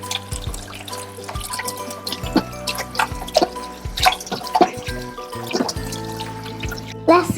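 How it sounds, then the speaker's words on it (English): Water from a tap runs and splashes while someone washes their hands, with irregular drips and trickles at close range. "First, Mother needs to wash her hand."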